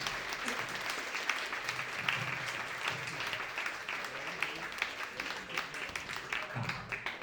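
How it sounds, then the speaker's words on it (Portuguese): Audience applause at an inaugural science class event, a steady wash of many hands clapping throughout, moderately distant, with faint voices mixed underneath. "Pessoal, vamos uma salva de palmas para todos nós."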